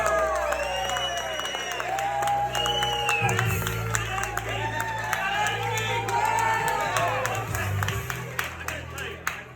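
Comedy club audience cheering, whooping and clapping for stand-up comedian Vinnie Parco, a loud sustained crowd roar with an announcer's voice over it.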